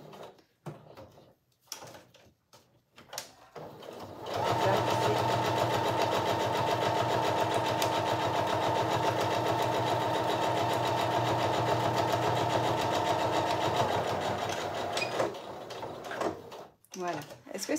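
A sewing machine runs a steady, continuous stitching burst of about ten seconds, sewing a seam close to piping on a fabric bum bag, with a voice talking before and after.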